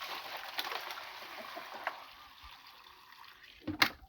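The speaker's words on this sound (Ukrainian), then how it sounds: "тільки теплу таку, вже добре теплу, з бойлера набираю" Warm water runs from a boiler into a container on a farm: a steady, fairly faint rushing and splashing flow that ends with a short louder slosh.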